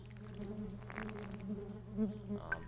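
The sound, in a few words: buzzing bees in video game Genital Jousting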